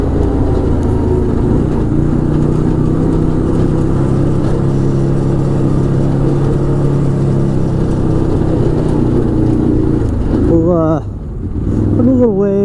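An Arctic Cat Wildcat 1000X side-by-side runs on a test drive with a loud, steady engine drone and cabin rumble throughout. The sound dips briefly near the end, and a voice speaks over it.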